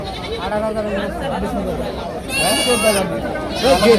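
Goats bleat at a livestock market in Kaitla, Mirzapur, Tangail, with a few wavering calls rising near the end under steady nearby talk and market chatter.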